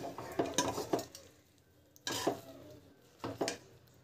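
Paneer vegetable biryani rice being stirred and mixed in a pot, three separate bursts of scraping and clinking utensil strokes with a faint sizzle in the quiet gaps.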